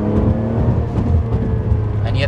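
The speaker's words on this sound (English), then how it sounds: "It's a really smooth revving motor." Smooth-revving car engine pulling hard in third gear in a manual-conversion car of around 500 horsepower, a loud, close, steady whir, with voices talking over it.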